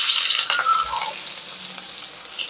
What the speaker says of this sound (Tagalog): Pag mainit na mantika, siyempre, unahin ko yung sibuyas